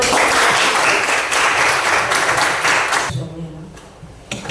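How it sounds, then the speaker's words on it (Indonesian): Classroom applause: a burst of lively clapping from students fills the first few seconds, then drops away abruptly into quieter room sound with a few stray claps. "Tepuk tangan."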